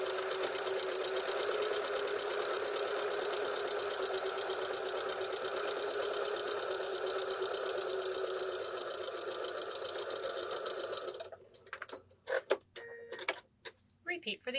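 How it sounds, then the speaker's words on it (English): A sewing machine stitches along the pressed edges of fabric for a rice-filled compress bag, a fast, even mechanical whir for about eleven seconds, then stops and gives way to handling clicks and rustles. "go and stitch right along those edges. And stitch straight down."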